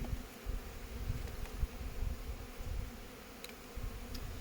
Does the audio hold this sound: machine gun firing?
no